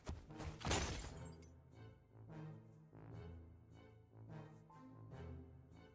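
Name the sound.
glass window shattering sound effect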